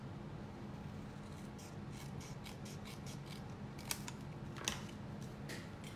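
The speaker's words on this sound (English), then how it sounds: "I'm just gonna trim that." Scissors trimming cardstock for a birthday card: a quiet run of crisp, evenly spaced snips, with one or two sharper cuts near the end, heard alone and close up.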